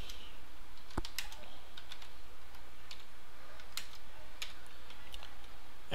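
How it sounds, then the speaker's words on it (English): Typing on a computer keyboard running Ubuntu 9.10 in a word processor: a steady run of quick, light clicks with a few sharper key strikes, close and clear with no voices. "let's type something in"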